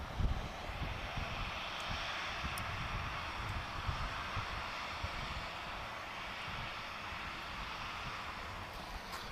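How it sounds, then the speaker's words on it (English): An Emirates airliner taxis off the runway at Lisbon Airport, giving a steady, distant jet engine roar with a broad whoosh that holds evenly throughout and no speech. "So Emirates just taxiing off the runway now, heading for gate 146."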